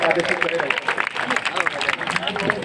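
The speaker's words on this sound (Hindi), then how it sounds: "एक बार जोरदार ताली बजा दे सब लोग" Audience at a Hindi kavi sammelan poetry recital in a village setting breaks into loud, dense applause that fills the whole stretch, mixed with crowd noise and voices.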